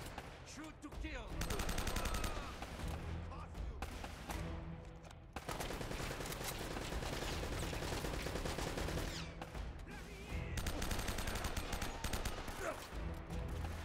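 Dense, rapid gunfire from the video game Uncharted rattles almost nonstop at high loudness, with bursts and shots layered over game music and effects.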